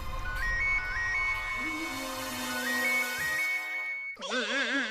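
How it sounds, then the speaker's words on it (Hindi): A phone rings with a bright, repeating electronic melody over a busy room tone, then the tune gives way to a warbling synthetic tone near the end, with no talking. "यानी घंटे बज रही है"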